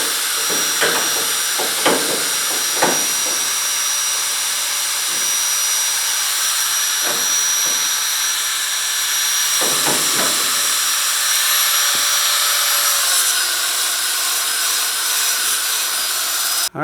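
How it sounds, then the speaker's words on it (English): Power sander shaping a mount on a vintage Porsche 911 engine cradle for a Subaru EZ30 turbo swap, a steady high whining hiss with a few louder knocks and grinding bursts as the tool meets the part. "I'm gonna bring my other sander in here"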